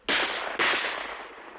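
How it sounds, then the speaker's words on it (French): Two rifle gunshots as a sound effect in an adventure audiobook, two sharp loud reports about half a second apart, each with a fading echo tail. "2 coups de feu claquèrent"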